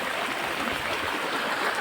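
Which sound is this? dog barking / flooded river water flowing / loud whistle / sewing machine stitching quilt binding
flooded river water flowing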